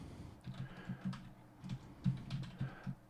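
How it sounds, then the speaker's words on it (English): Quiet, close typing on a computer keyboard, a steady run of soft key clicks in uneven bursts with short gaps. "I'm just going to type"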